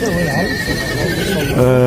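Horses neigh loudly and repeatedly at a livestock market in Talas, Pokrovka, with long whinnies over a busy crowd and people talking nearby; another close, strong neigh comes at the end.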